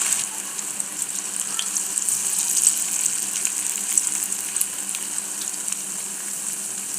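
Ivy gourd pakodi with ginger fries in hot oil, giving a steady, close hiss of sizzling with no talk.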